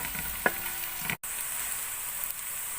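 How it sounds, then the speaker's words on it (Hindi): Garlic paste fries over low heat in a pan, a soft continuous sizzle with a light stir and a brief clink, quiet and steady with no talking. "हल्की आंच में इसको थोड़ी देर भून लेंगे।"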